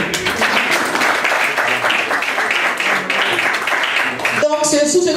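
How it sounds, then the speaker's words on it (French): Birthday party guests applaud at an 80th birthday celebration, a dense wash of clapping for several seconds before it breaks off into voices and music at the end. "Applaudissez s'il vous plaît."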